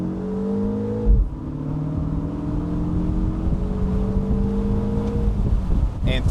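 A 2025 MINI Cooper JCW Convertible accelerates hard, its engine note climbing steadily after a quick gear change near the start, with loud and close road and wind noise around it.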